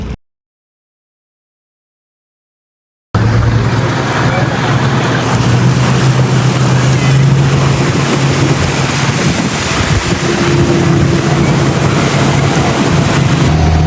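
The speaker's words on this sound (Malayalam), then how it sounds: "നമ്മുടെ ബോട്ട് വീണ്ടും സ്റ്റാർട്ട് ചെയ്തു." A motorboat travelling on the Napo river in the Amazon runs with a steady, loud engine drone mixed with heavy wind and water rush, after a few seconds of silence at the start.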